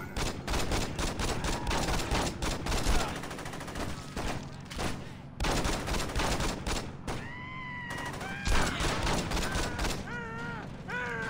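Sustained AK assault rifle fire in the open-world game Saints Row 2, dense rapid automatic bursts filling most of the stretch, loud and close, with brief pauses and some cat-like meowing sounds mixed in near the end.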